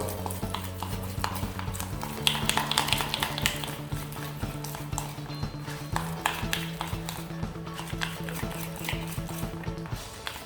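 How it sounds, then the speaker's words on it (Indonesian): Steady scraping and slapping of a spatula working thick dental impression material in a figure-eight around a rubber bowl, rhythmic and close, with a faint hum behind it. "Dia membentuk angka 8 dengan menekankan spatula ke arah rubber ball."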